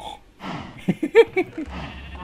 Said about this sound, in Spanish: Tiene vacas, ovejas y un cerdito.